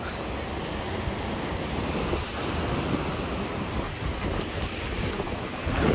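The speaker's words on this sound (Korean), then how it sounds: "우와, 바다 찰랑찰랑 거리는 거 봐요" Sea waves lap and wash steadily under strong, gusting wind by the shore, a loud, continuous surf noise with no one talking.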